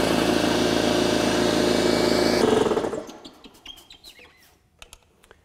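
Metabo HPT 8-gallon trolley air compressor with a 1.5 horsepower motor running loud and steady on its initial fill, then cutting out abruptly midway, leaving faint clicks and small noises.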